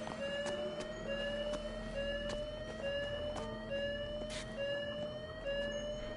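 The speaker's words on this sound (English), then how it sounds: "This is a fire alarm, people. That means move it." A fire alarm rings loudly in the Hitman video game, a steady electronic tone with a sharp pulsing rhythm, sounding continuously across the clip with no speech over it.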